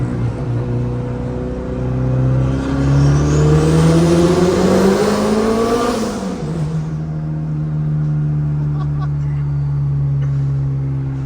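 A turbocharged Honda B20 engine in a car pulling hard through VTEC crossover, its loud engine note rising steeply in pitch before dropping on a shift and settling into a steady drone, heard from inside the car.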